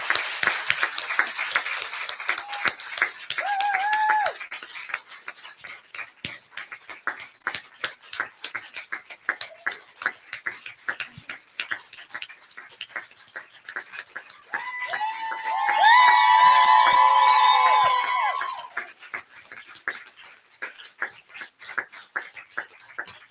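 A live audience at a Saba 60 Live event in Huntsville, Alabama claps in scattered, sharp bursts throughout, swelling into a louder stretch of cheering with a sustained whoop near the end.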